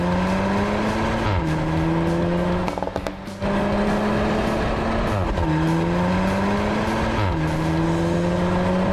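A Volkswagen T-Roc R with more power, a lowered body, wider tyres and stiffer suspension accelerates hard. Its loud engine note climbs and drops through several quick upshifts, with one brief lull partway.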